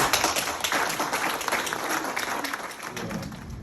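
Audience applause at a sheriff's office award ceremony honoring deputies, dense sustained clapping from many hands, fairly loud and close, continuing steadily without talk.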